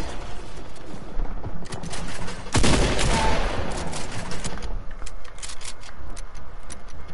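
A pump shotgun in Fortnite fires one sharp, loud blast in the middle of a busy duos match, surrounded by clicks and scattered game noise.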